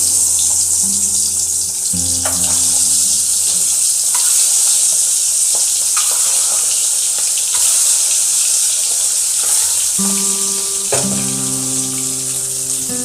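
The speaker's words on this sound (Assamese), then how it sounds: "এতিয়া কণীখিনি মই ভাজিম।" Spiced eggs frying in hot oil, a loud continuous sizzle and crackle throughout, with intermittent tonal clatter from the pan.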